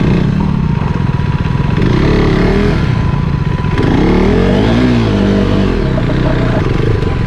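Motorcycle engine on an off-road monsoon ride in the Kyatanamakki Hills, running loud and close with a steady rumble and two rising revs.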